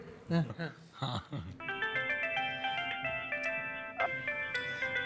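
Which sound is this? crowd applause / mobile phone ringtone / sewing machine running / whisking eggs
mobile phone ringtone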